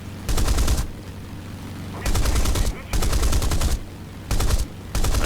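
Aircraft cannon and machine guns fire in the War Thunder video game in several sustained bursts of rapid loud gunfire, separated by short gaps filled with engine drone.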